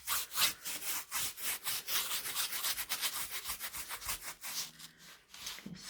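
Vigorous rubbing of Mod Podge sealant into a diamond painting, a dense, steady scrubbing texture with rapid repeated strokes, loud and close, with no talking.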